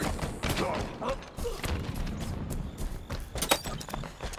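Enemy turret gunfire in a Halo Big Team Battle match, a dense series of heavy thumping shots and impacts mixed with battle noise, with voices speaking over it.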